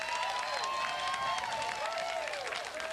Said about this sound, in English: Who in the room, by round of applause, smokes?